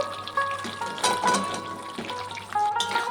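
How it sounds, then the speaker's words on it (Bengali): Jackfruit seeds sizzling and frying in a spice paste with turmeric and salt, a close, steady crackle with brief bursts of stirring scrapes. "মশলাটির মধ্যে দিয়ে দেব কাঁঠালের দানা।"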